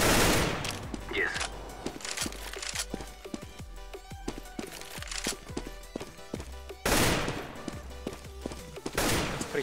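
Rapid bursts of pre-fire gunshots in the video game CS:GO, a dense run of sharp, loud cracks in quick succession, with a second volley near the end and a voice talking over the shooting.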